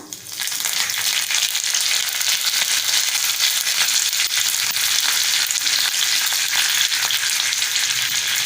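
Curry leaves hit hot oil with mustard seeds for a dal and spinach tempering, bursting into an intense, steady crackling sizzle that starts abruptly and stays loud and close.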